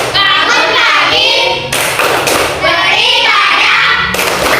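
A group of children and a teacher clap along to an Indonesian classroom chant, loud rhythmic bursts of hand claps and thumps mixed with chanted voices.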